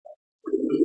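A racing pigeon returning to its landing board gives a short soft coo, then a fuller, louder cooing call close by, alone with no other sound.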